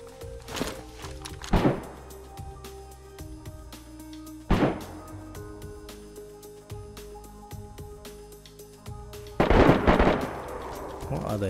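Automatic gunfire in the video game DayZ, with several sharp bursts of shots a few seconds apart and a faint ringing hum between them.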